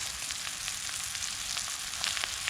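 Wild oyster mushrooms fry outdoors in a pan over a small butane stove at medium-high heat, giving a steady, close sizzle with faint crackles that stay even throughout, with no talking.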